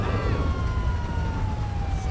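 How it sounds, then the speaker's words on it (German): A police car siren from the GTA 5 video game wails in a falling tone, loud and continuous over rumbling background noise. "Wir killen mal unsere Sirene."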